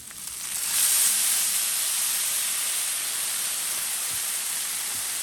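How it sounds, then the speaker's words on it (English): Steady loud hiss of water steaming on a hot Blackstone flat top grill outdoors, rising quickly in the first second then holding constant, close by with no talking. "Obviously you get the steam going"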